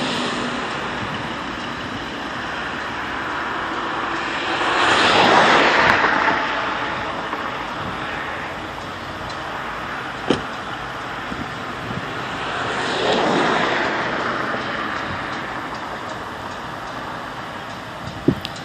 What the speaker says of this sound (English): Okay, here comes the sand truck.